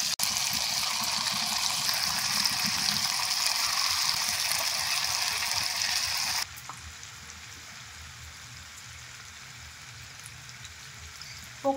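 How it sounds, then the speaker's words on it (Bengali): Semolina pakoras frying in hot oil in a wok, a steady loud sizzle that drops abruptly to a quieter, softer bubbling hiss partway through. "এরপর একটা একটা করে পকোড়া আমি তেলের মধ্যে ছেড়ে দেব"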